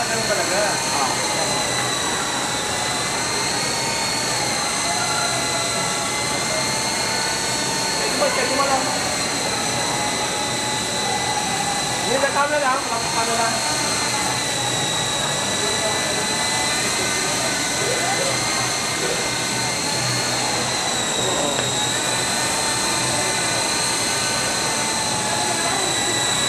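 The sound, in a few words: coaxial model helicopters R22, Comanche, Kestrel Mini 500 flying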